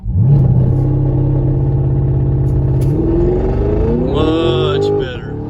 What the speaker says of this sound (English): So now I'm gonna do launch control back to her.